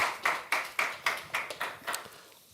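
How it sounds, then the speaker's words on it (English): A small group of people clap at a tech conference talk, about eight distinct sharp claps in an uneven rhythm that fade toward the end, close and fairly quiet, with no talk. "Round of applause."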